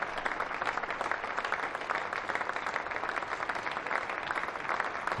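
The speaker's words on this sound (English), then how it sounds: "Let's just listen to that applause for Josh Bohannon." A cricket crowd applauds a century at a County Championship match between Lancashire and Kent, a steady wash of distant clapping that holds evenly throughout.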